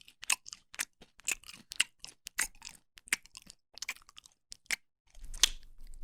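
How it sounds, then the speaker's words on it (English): Close, loud crunching and chewing against a microphone, in irregular bursts of crackling bites and short pauses with no speech. "stop chewing on the mic."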